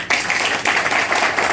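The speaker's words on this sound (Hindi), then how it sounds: "जोरदार ताली बजाओ।" An audience claps loudly and steadily at an event welcoming guests to an SC/ST federation headquarters in Connaught Place, New Delhi, a dense continuous burst of applause.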